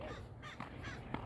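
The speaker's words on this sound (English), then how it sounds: "So out here you see a lot of the ravens or the crows" Crows or ravens caw a few times during an autumn walk in New Mexico, faint and distant calls in quiet open air.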